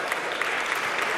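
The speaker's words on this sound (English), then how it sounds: "Please give a round of applause." An audience at a startup pitch competition final applauds steadily, with dense, even clapping heard throughout.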